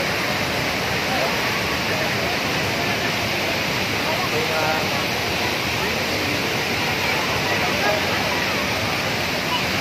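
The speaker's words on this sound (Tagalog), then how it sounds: "Ito pala yung sinasabi nilang falls." Taytay Falls, a waterfall in Majayjay, Laguna, roars in a steady, dense, close rush of falling water that stays loud and unbroken from start to finish, with faint voices now and then beneath it.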